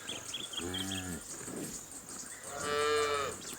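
Two dairy cows moo in turn on a farm in Margaret River, Western Australia, during calving season, the first a short low call and the second a longer, louder bellow, both close by and clear.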